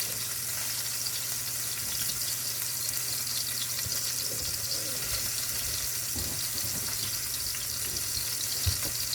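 Tap water runs in a steady rush over potatoes being washed in a kitchen sink, with faint knocks and handling noises mixed in.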